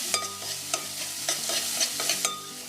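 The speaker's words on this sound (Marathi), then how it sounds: "टोमॅटो चांगला मॅश करायचा" Tomato and onion being mashed and stirred in hot oil in a pan for a Malvani-style sprouted horse gram curry, with steady sizzling and repeated scraping strokes of the spoon at an even rhythm, close and moderately loud.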